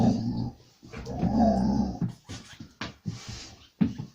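A pet dog growls and grumbles at close range in a home, in uneven bursts with brief whimpering breaths between them, lively and fairly loud with no talk over it.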